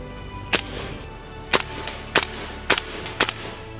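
A Ruger 10/22 rifle in .22 Long Rifle fires six sharp, short cracks at uneven intervals, each a clean broadband snap with a brief tail, fairly close and alone with no talking.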